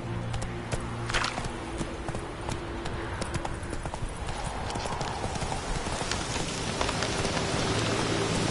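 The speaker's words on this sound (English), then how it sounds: "Run, Roach." In a fantasy video game, a horse gallops through steady rain, its hoofbeats in a constant clip-clop rhythm, close and loud over the continuous hiss of the downpour, with no talk.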